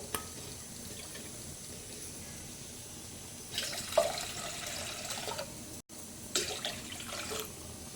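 Water pours from a tap into a cooking pot for rice, a steady rush with a couple of louder splashy swells, close by and alone.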